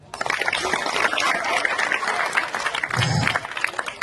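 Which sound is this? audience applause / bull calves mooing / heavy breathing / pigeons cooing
audience applause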